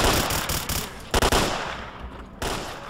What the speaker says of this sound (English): I love this upgraded gun